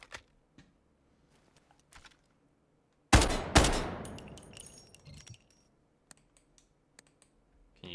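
A PSG-1 rifle chambered in 7.62x51mm NATO fires in the Delta Force video game. One loud, sharp shot rings out and decays, surrounded by scattered faint clicks and interface taps.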